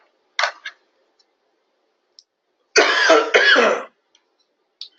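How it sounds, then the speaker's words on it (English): A few sharp coughs: a short one early, then a louder double cough, close and isolated against near silence with faint clicks. "Sorry, I have a cough here."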